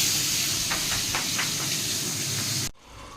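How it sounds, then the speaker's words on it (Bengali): Potato and paneer fry in hot oil, giving a loud, continuous hiss with a few soft ticks, then cutting off abruptly near the end. "তো আমি এটাকে এবার ভাজবো।"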